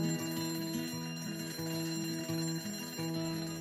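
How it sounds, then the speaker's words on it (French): An alarm clock rings with a repeating electronic melody, a steady bright tone that keeps cycling without pause and plays alone, with no voices. "être réveillé par la sonnerie d'un réveil qui démarre brusquement"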